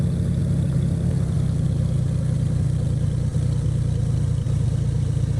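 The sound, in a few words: Beechcraft B58 Baron propeller engine at 1,000 RPM, X-Plane 12 video game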